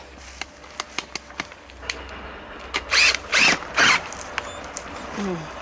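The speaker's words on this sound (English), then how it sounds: "I've got my trusty power planter." A power planter drill auger turning a compost pile, heard as a few short bursts of whirring, grinding drilling close by, following scattered clicks and light rustling.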